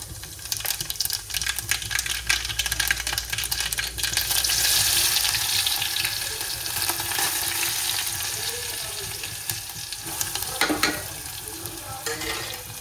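Mustard seeds and cumin sizzle hard in hot oil in a home kitchen pan, a loud continuous crackling fry with scattered pops, steady throughout with a brief surge near the end.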